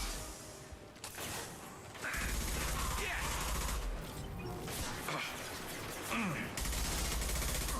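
Rapid sustained gunfire in the PS4 Mass Effect 2 Legendary Edition video game, dense automatic bursts rattling continuously for several seconds with mechanical clanks, loud and close throughout.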